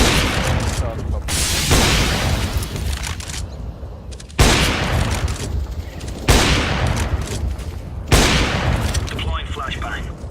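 Gunfire and a popping Molotov incendiary in a CS:GO match on the Ancient map, loud sustained crackling bursts with sharp shots cutting in every couple of seconds.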